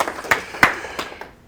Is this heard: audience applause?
yes